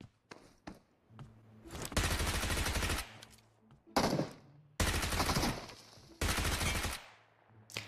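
Gunfire in the mobile battle-royale game PUBG Mobile comes as rapid automatic bursts, several sustained volleys separated by brief pauses, loud and close with a few single shots before them.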